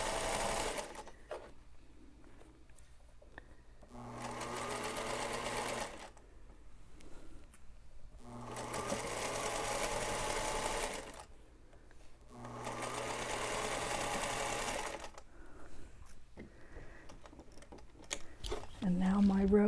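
A sewing machine stitches a quilt row in three steady whirring runs, each a few seconds long, with quiet pauses between them for adjusting the fabric against a seam guide.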